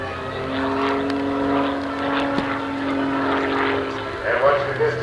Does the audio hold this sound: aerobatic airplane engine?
yes